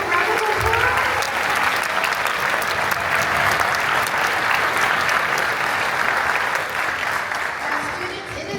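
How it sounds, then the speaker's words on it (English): An audience at a student orchestra summer strings camp concert claps loudly and steadily for over eight seconds, a dense wash of applause that tapers slightly at the end. "Can we give them a round of applause?"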